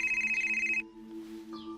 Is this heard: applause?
no